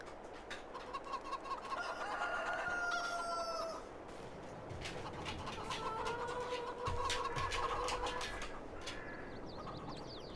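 Farm chickens in Farming Simulator 22 cluck and crow around a coop holding ninety hens, with a rooster's long calls rising over steady overlapping clucking, fairly close and continuous.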